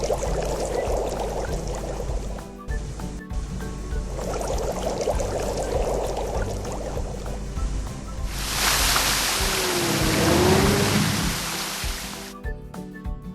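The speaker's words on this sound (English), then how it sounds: "Let's fill it with water and turn the fountain on." Water from a water truck gushes into a fountain as a steady, loud rushing pour lasting about four seconds, following quieter busy sounds and fading out abruptly.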